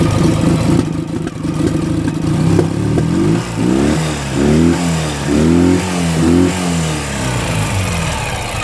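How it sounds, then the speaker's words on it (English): Boxer twin of a 2009 Ural GearUp motorcycle revved repeatedly at close range, loud rising and falling blips over a rough idle, with popping backfires from small jets in the carburetors. "the little backfire there, that's just because it has small jets in it"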